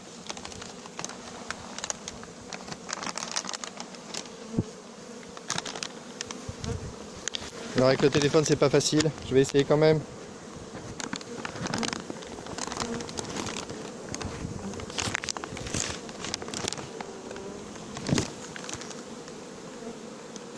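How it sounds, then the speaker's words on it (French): A large swarm of honey bees hums continuously while being tipped from a bag into a hive on a farm, with handling knocks and scrapes close by and someone briefly talking midway. "Là, on voit que dans le sac, il y a vraiment beaucoup d'abeilles."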